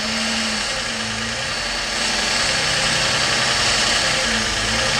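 A car engine idles steadily and close by while brake cleaner is sprayed near the intake plenum to find a vacuum leak, and the idle pitch shifts partway through to a slightly fuller, rougher drone.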